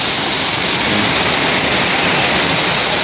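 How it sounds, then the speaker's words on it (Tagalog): Loud, steady rushing water fills the whole stretch, a dense roar like a fast river or cascade close by, with nothing else audible. "medyo maingay yung tubig. Mayroon dito makikita ka na para siyang ilog."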